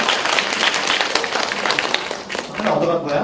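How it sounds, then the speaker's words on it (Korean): Audience applause at a self-directed learning forum lecture, a full, dense burst of clapping that holds strong, dips briefly, then swells again as voices sound beneath it near the end. "박수 한번 주세요."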